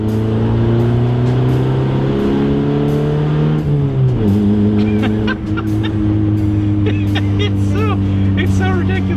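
A Honda Civic engine drones steadily in third gear, a loud low hum that shifts pitch midway as the car keeps driving, with someone talking over it.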